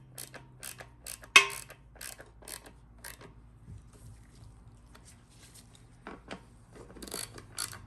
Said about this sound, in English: snug your extension housing bolts down